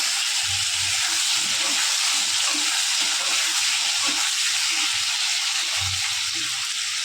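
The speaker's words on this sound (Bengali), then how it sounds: "এখন এই গরম তেলেই গোটা জিরে ফোড়ন দেব।" Whole cumin seeds sizzle and crackle in hot oil in a pan while a fish curry with potato and tomato is being made. A steady, close hiss runs throughout with soft bubbling pops.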